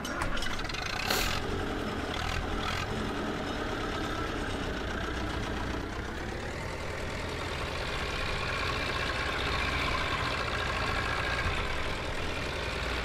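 A tractor engine in Farming Simulator 15 runs steadily at idle, a continuous, fairly loud mechanical drone with a rough mid-range hum that holds throughout, with no talking.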